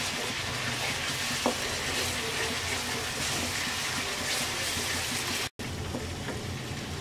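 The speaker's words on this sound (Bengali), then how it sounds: "পেঁয়াজ বাটাটাকে আমরা এবার 10 মিনিটের মতো সময় নিয়ে ভালো করে ভুনিয়ে নেব" Onion paste frying in a pan for an egg malai masala, a steady close sizzle and crackle running throughout with a brief stir clink and a momentary drop-out near the end.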